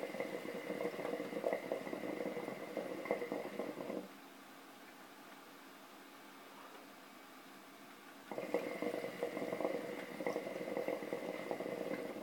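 Water bubbles in a hookah during two long, steady draws of Al Fakher mint tobacco, a continuous gurgle broken by a quieter pause between the pulls.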